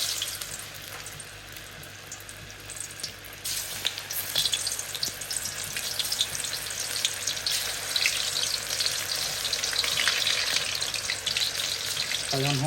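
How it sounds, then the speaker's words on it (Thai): Crispy pork belly deep-frying in very hot oil gives a steady loud sizzle and crackle that intensifies after a few seconds and keeps bubbling, with no voices. "ข้าเจ้าทอดหมูกรอบสุดก่อน"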